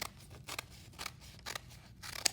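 Scissors slice through a stack of paper strips cut about an inch wide for a cardboard papier-mâché mask, several crisp snips at an even pace, close up and quiet.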